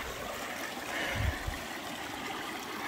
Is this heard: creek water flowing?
yes